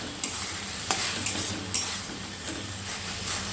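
Spoon stirring water spinach and potato curry in a pan, soft scraping strokes repeating every second or so over a faint sizzle, close and with no talking.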